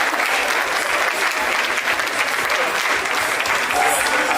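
Steady, dense applause from a large audience at an official commissioning ceremony, honouring a retired head of service of the Federation, continuing evenly at close range throughout.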